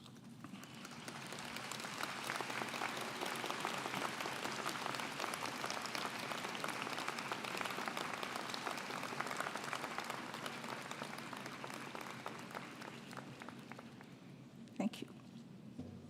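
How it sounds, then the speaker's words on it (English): Long, steady applause from a standing audience at a university convocation ceremony, broad crowd clapping that swells early and holds evenly, with a brief knock near the end. "stand, look around you and behind you, and applaud all who have helped you to get to this point"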